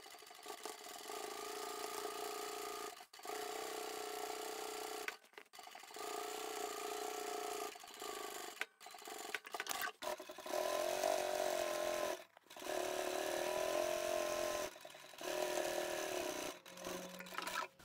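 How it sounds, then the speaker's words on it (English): A sewing machine stitches a duffle bag's lining to stiff outer fabric, running in several steady whirring bursts of a few seconds each, separated by short pauses as the fabric is repositioned. "Let's sew these two in place, and when we do that, we'll sew with the stiff side facing up."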